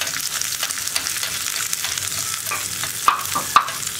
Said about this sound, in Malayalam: എല്ലാം ചേർത്ത് നമുക്ക് ഫ്രൈ ചെയ്തെടുക്കാം.